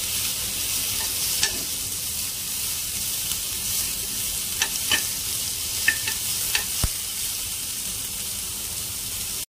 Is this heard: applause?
no